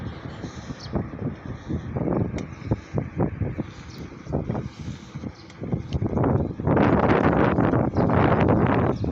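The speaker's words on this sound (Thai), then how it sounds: "วันนี้มีลมด้วย" Wind buffets the microphone during an outdoor bicycle ride near a temple in Thailand, a steady rushing roar with gusty bursts that swell louder toward the end.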